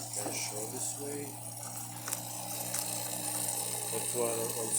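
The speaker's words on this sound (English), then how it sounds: "Hot water also works perfect." A Saeco Aroma espresso machine dispenses hot water with a steady hissing, gurgling flow over a low pump hum, while a person talks nearby.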